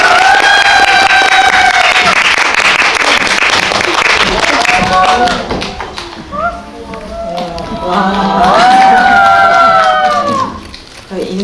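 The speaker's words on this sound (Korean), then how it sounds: "큰 박수로 맞이해주세요." Audience applause welcoming three guests on stage at a Korean film screening talk event in a Myeongdong cinema library, steady clapping with some cheering mixed with voices and a loud speaking voice over it, easing midway then swelling again.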